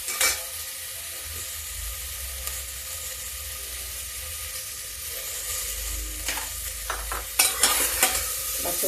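A potato and bean vegetable curry made with unpeeled raw potatoes and little spice cooks in a pan, giving a steady soft sizzle throughout, with a few sharper stirring scrapes near the end.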